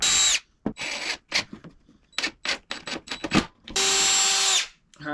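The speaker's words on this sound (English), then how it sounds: "I'll screw that in there." A power drill driving a screw while a router table is fitted, with whirring bursts at the start and end separated by a series of short knocks and clicks, close and fairly loud.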